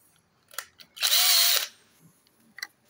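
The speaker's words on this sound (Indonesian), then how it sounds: "Nanti saya akan bor ya nih." A power drill with a 1 mm bit bores into the cylinder head cover of a Yamaha Soul GT 125 motorcycle. One short, loud whirring burst lasts about half a second, with small clicks just before and after.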